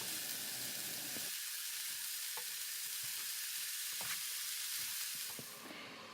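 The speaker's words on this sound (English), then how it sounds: "So I cook it for about 5 minutes max, and all of this I cook it on a medium heat." Broccoli cooks in a pot on medium heat for broccoli cheese soup, giving a constant close hiss and sizzle with a few faint stirring clicks before it fades slightly at the end.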